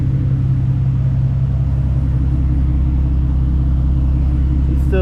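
A BMW 340 with a B58 engine on a turbo build chasing 1000hp runs under power, a loud steady low rumble filling the whole stretch, with a brief higher sweep near the end.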